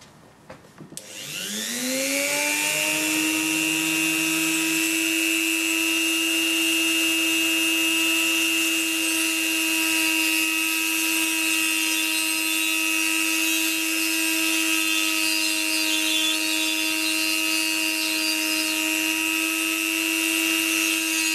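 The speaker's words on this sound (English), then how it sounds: "That's the drill bit I'm using. It's a diamond drill bit." A diamond drill bit spins up and bores into a gold specimen stone to seat a pendant bale, a steady high whine with strong harmonic tones starting after a brief rise and holding loud and even to the end.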